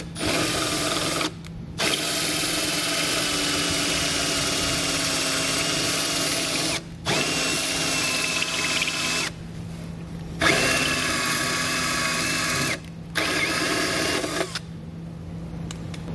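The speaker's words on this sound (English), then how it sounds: "and drill out our opening." Power drill boring an opening in a plastic tail light housing on a 2015 vehicle during tail light wiring kit installation, a steady close whirring broken by several short pauses.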